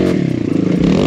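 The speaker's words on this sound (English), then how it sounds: "pull the clutch in, rev it up, and just bop and hop off a log" Close by, a Kawasaki KLX140RF dirt bike with a 170cc big bore engine revs up sharply for a brief, loud burst as the rider hops it over a log.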